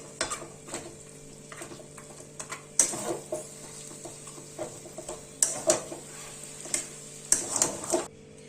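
Spices being stirred into ghee in a cabbage curry cooked with fish head, with intermittent scraping and clinking strokes of a spoon against the pan over a low sizzle, close, no voices.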